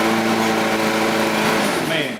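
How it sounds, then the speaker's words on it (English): A Kohler Courage XT 6 engine on an Ariens lawnmower runs loud and close after starting, a steady buzzing drone with a strong tonal hum that holds evenly throughout. "let's depress the starter bar and see what we got."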